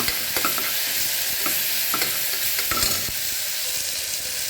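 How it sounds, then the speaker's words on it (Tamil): Onions and ginger garlic paste fry in a pan with a loud, continuous sizzle, broken by repeated scraping strokes from a spatula stirring close by. "இஞ்சி பூண்டு பேஸ்ட்டு போட்டேங்க. அதை பச்சை ஸ்மெல் போகிறது வரைக்கும் வணங்கிக்கலாமுங்க."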